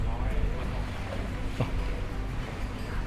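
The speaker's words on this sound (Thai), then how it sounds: "มีคลื่นน้ำกระทบนิดหน่อย" An electric passenger boat glides along the Khlong Saen Saep canal with small waves lapping against the hull, a steady close wash of water and motor hum under voices talking.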